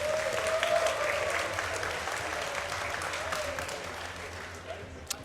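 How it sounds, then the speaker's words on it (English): Sustained applause from a large live audience at a StarCraft II esports tournament, steady and full throughout the clip, with a commentator's voice faintly underneath. "The crowd here again, beautiful. Yes, wonderful crowd."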